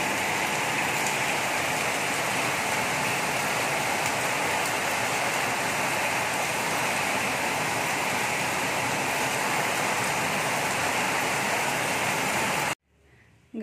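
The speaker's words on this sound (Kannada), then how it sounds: "ಸಿಕ್ಕಾಪಟ್ಟೆ ಜೋರು ಮಳೆ ಬರ್ತಾ ಇದೆ." Heavy rain pours down steadily outdoors, a dense, loud and unbroken hiss of drops on surfaces that fills the whole stretch before cutting off abruptly at the end, with no voices over it.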